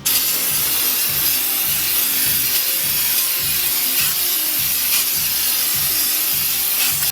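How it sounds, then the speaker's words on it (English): Nylon brush scrubbing degreaser across an engine block gasket surface, a loud, close, continuous rhythmic back-and-forth rasp with steady strokes throughout. "I'm taking a nylon brush and scrubbing it down, breaking up all the loose chunks, and down here on the engine block as well."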